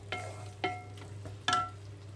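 Spinach (palakura) with onions being stirred in a covered pan: three distinct scraping clatters of a spoon against the pan over a steady low hum, close and moderately loud, with no talk.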